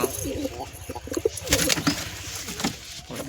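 Pigeons kept by a hobbyist coo in soft, repeated throaty bursts close by, with occasional wing flutters and someone talking over them.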